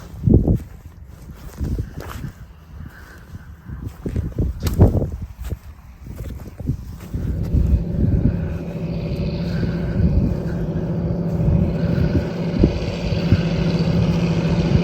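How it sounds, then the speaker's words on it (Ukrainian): John Deere 8310R tractor engine running in a frozen winter wheat field, heavy thumps and steps at first, then a steady low engine drone that builds and continues, close and fairly loud. "Працюємо трактором John Deere 8310R з навігацією."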